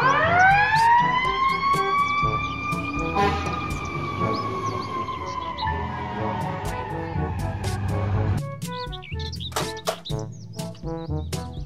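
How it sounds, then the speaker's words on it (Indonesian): A fire truck siren wailing, a loud rising and sustained tone that slowly drifts downward, followed by short chirpy musical notes and sound effects. "Mobil truk pemadam kebakaran."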